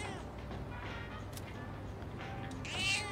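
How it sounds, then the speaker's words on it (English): A small black cat meows in the video game Persona 3 Reload, a few short, faint meows over steady background game ambience, with a louder mew near the end. "Oh my god, a cat!"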